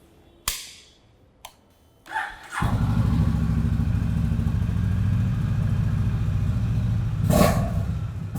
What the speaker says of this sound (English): the H'ness CB350 has a thumpy exhaust note that many customers in the segment will appreciate